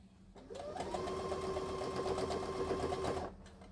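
A sewing machine stitching a headcovering runs slowly and steadily for about three seconds, a close, even mechanical whir with a rapid needle rhythm that starts and stops cleanly, with no talking.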